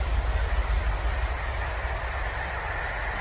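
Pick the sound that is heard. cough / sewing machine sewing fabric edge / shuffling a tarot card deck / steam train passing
steam train passing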